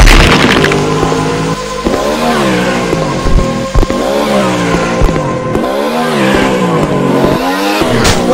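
A car engine in the horror driving game Something Rush roars close and loud, revving up and down in repeated rising and falling sweeps with sharp cracks between them.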